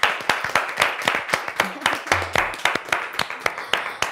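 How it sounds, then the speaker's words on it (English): A studio audience claps for a children's team after a quiz round on a school holiday programme, a steady run of sharp, close handclaps carrying on through the whole stretch, with a low hum briefly underneath. "A round of applause."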